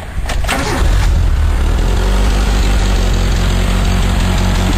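A 1986 Suzuki Samurai's engine cranks briefly, then catches and settles into a loud, steady idle with a deep low rumble and constant vibration, close to the mic.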